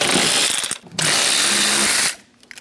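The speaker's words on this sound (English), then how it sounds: "Using a 10mm socket, we're going to remove the 4 nuts for our knee bolster." Power tool driving a 10mm socket to remove knee bolster nuts on a Chevrolet Express 2500 van, two loud close bursts of whirring ratchet noise with a short break between, then quieter clicks.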